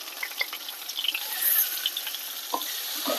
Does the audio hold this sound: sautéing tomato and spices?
yes